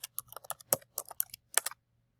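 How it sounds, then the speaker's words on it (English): Keys tapped on a computer keyboard in a quick irregular burst of about a dozen crisp clicks, close and clear over a faint low hum, then silence. "So I'm going to type here facts about Colombia."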